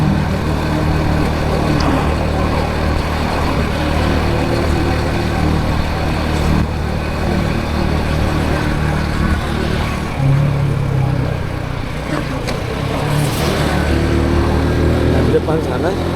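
Busy road on the Cipanas route during the Lebaran holiday, with many motorcycles and cars passing as a continuous engine drone and occasional louder pass-bys, while someone talks over it.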